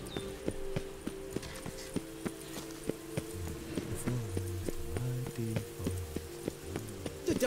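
Hooves clop in a steady walking rhythm in The Witcher 3, close and regular, with a low voice murmuring and faint background sounds underneath.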